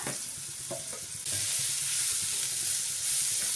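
Onion is sautéed in a pan with ginger and green chili for a Rajasthani besan paratha filling. A few stirring clicks come first, then the sizzle jumps louder as the onion goes in and keeps up a steady, close crackle.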